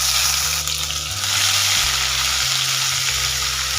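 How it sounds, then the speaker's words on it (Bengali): Onion paste fries with whole cloves, peppercorns and a piece of cinnamon in a pan, hissing in a loud, steady sizzle close up, with a low hum running underneath and no talk. "পেঁয়াজটা হালকা ভেজে নেব"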